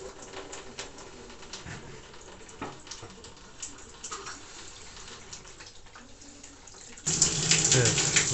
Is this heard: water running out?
yes